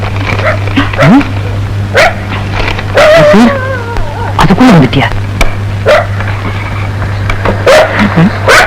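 A dog barks and yips in short, irregular bursts, with whimpering notes, while people talk loudly over it in a Tamil comedy scene.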